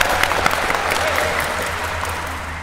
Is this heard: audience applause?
yes